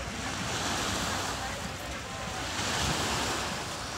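Surf rolling onto a Lake Ontario beach, a steady broadband wash with wind rumbling against the microphone, no voices heard.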